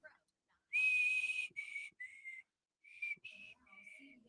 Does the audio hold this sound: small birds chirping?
no